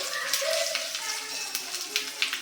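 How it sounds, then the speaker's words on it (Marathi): Sesame seeds and green chillies sizzle in hot oil as a tempering, a bright, crackling fry heard up close with small pops scattered through it. "वा जबरदस्त मस्त फोडणी बसलेली आहे"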